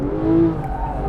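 Tires of a Porsche 911 GT3 squeal as the car rotates with traction control off, a short loud skid with engine noise close by.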